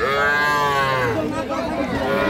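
Calves and cattle at Raniganj livestock market, with a loud, close, drawn-out moo over a busy background murmur of the crowded market.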